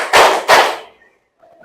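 A group claps hands together in a counted pattern, two loud crisp claps close together followed by quiet.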